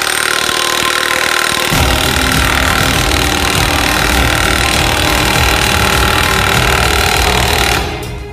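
A Milwaukee 2767 impact wrench is driving an exhaust stretcher, a loud continuous rattling hammer that runs for about eight seconds before stopping abruptly, with no talking.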